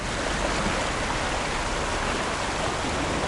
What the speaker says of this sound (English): A lot of this water that's rushing through this viaduct